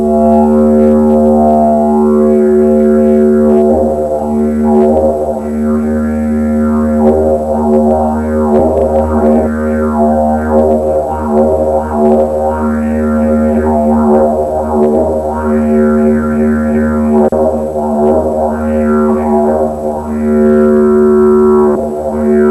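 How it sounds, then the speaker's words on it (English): A didgeridoo (yidaki) drones continuously and loudly up close, its deep steady tone carrying rhythmic, vocal-like overtone sweeps for over twenty seconds with no talking. "Let's see what sort of a sound the didgeridoo makes when we make that sound."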